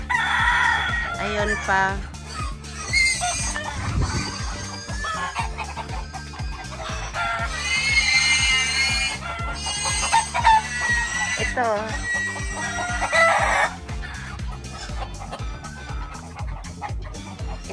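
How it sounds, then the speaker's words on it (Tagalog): Fighting roosters kept for cockfighting crow and cluck repeatedly at close range, several birds overlapping in loud bursts while a person talks briefly between calls. "Mga manok niya. Pangsabong yan."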